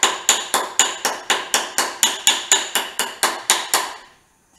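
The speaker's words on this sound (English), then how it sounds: "This is a dead blow, and this is just a plastic camping hammer. Either one, knock that bolt out." Fifteen sharp, evenly spaced knocks as a plastic camping hammer drives a bolt out of the fork of a 1972 Honda CT70, close and crisp with short ringing decays, ending in silence.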